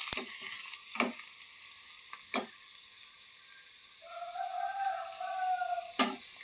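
Cumin, mustard seeds, onions, green chilies and curry leaves fry in hot oil, a steady close sizzle broken by a few sharp utensil clanks, with a brief higher tone near the end.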